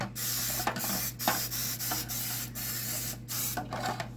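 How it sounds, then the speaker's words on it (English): Crisco cooking spray misted into loaf pans in a home kitchen, heard as a steady close hiss broken by several short pauses over a low constant hum. "I'm going to spray the inside of these loaf pans"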